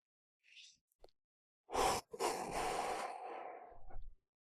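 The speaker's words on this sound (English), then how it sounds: "And another big deep breath." A person takes a big, deep breath, a long audible inhale followed by a slow, drawn-out exhale, close and clear, with a brief short breath beforehand.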